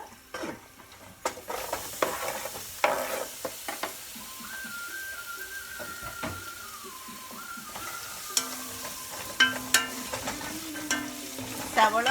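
Chopped onions sauté in a pan with curry leaves for a Kerala-style chicken curry, a steady close sizzle with intermittent stirring scrapes and clinks, no talking.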